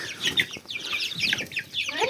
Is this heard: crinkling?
no